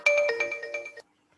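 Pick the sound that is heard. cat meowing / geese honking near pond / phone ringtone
phone ringtone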